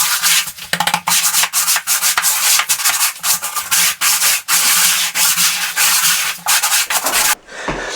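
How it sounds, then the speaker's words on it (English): An old wooden trowel is rubbed back and forth over a steam shower wall membrane, making loud, continuous scraping strokes with brief breaks, very close and with no talk. "And I smooth it in with an old wooden trowel."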